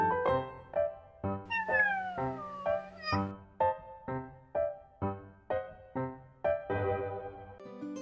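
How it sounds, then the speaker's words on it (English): A cat meows again and again in clear, close calls of varying pitch, some of them long and drawn out. Brief pauses separate the calls, and no voices talk over them. "here's a kitty"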